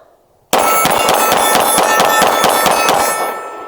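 A Derya DY9 9mm pistol fires Blazer ammunition from an extended magazine in a fast, steady string of about a dozen sharp, loud shots, each ringing off steel targets, with the metallic clang fading briefly at the end.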